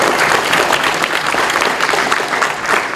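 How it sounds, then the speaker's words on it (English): Loud, dense applause from the audience at a defense tech panel during an innovation summit, sustained and even throughout without a break. "round of applause"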